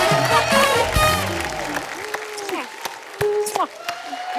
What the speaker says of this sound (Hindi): जोरदार तालियां नीतू जी के लिए।